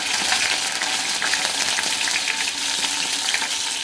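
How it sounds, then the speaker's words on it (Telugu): Curry leaves hit hot tempering oil with mustard and other seeds for a flat bean and garlic curry, giving a steady, close sizzle and crackle that holds evenly for a few seconds with no voices. "కరివేపాకు వేస్తాం"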